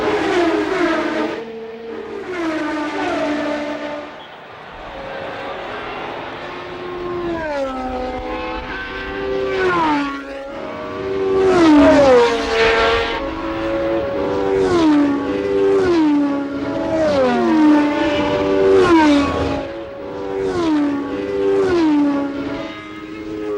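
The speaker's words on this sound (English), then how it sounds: "The ATS was powered by a 3-liter Ford Cosworth DFV V8." A 1980 ATS Formula 1 car with a 3-liter Ford Cosworth DFV V8 screams past in repeated rising and falling revs, loud and close, with no talking.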